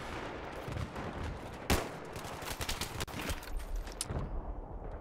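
A single sharp crack from a JNG-90 sniper rifle in multiplayer Battlefield 3, followed by a quick run of clicks and bolt-action reload clatter, all mixed with background game noise and distant gunfire.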